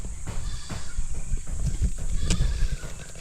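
Goats bleat in short repeated calls nearby, including two female goats, mixed with shuffling movement and farmyard noise.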